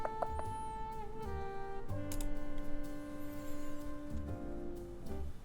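Typing on a custom-built Duck Eagle v3 mechanical keyboard, a steady patter of keystrokes running under tonal background music and other sounds, moderately quiet throughout.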